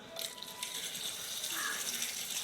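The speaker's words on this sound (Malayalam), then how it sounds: "ഇത് നമ്മൾ വെള്ളത്തിലിട്ട് നന്നായിട്ട് കഴുകാം." Hand-cut potatoes for french fries are washed in water. A faint, soft sloshing and trickling continues through the short moment, quiet and without talk.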